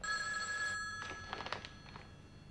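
A telephone rings indoors with a faint, steady electronic trill that breaks into a few brief pulsing rings, heard quietly and alone with no voices.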